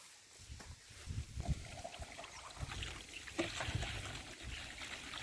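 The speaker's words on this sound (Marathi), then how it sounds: "आता पाणी मोठ्या जोरात चालू झालेलं आहे" Water rushing and trickling along steadily into an irrigation channel outdoors, a continuous watery flow heard at a low level from close by.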